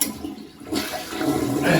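A toilet flushes in a bathroom, shut off from its water supply ahead of removing a Brondell Fresh Spa bidet seat; the rushing swirl begins abruptly and stays loud and close to the end.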